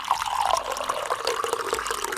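Tea pouring into a cup in a Scratch bubble tea maker game: a brief, continuous watery trickle with small drips, steady and fairly close, with no talk over it.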